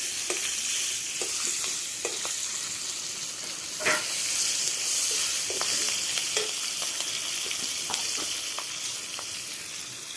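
Cumin seeds, dried red chilies, bay leaves and green chilies fry in hot ghee, a constant crackling sizzle with scattered pops and spoon scrapes from stirring, heard close with no one speaking.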